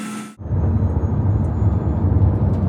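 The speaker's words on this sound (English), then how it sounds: "That constant whine almost sounds like my hot point washing machine is going for a fast spin cycle." Steady cabin drone and whine inside a moving Kia PV5 Cargo panel van, a continuous loud low rumble with a faint high tone running throughout after a brief voice at the start.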